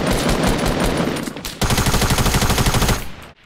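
Minigun fire in the Fortnite video game rattles out in long, loud sustained bursts, with a short break near the middle before a second steady rapid stream of shots that cuts off abruptly.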